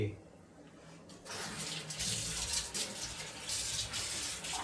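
Tap water gushes into a pressure cooker holding leftover dal, starting quietly and then becoming a steady, close, full rush of running water until the end.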